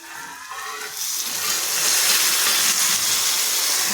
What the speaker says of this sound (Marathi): पाणी गरम झालेलं दिसलं छान वाफ तर आता आपण हे पाणी सोडून द्यायचे